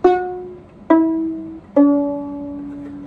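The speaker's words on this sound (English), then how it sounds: "So if I wanna play hot cross buns, it would sound like this." Three bowed viola notes on open strings, played slowly as the opening of Hot Cross Buns, each a clear sustained tone stepping downward, close and fairly quiet with nothing else around them.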